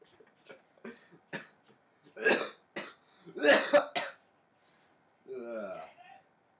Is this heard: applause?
no